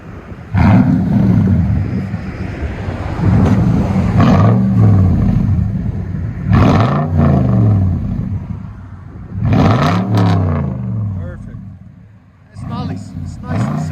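A 2015 Toyota Tundra 5.7L V8 with a Carven R-Series exhaust, loud repeated revs that rise and fall in several bursts, deep and rumbling up close, with people talking over it.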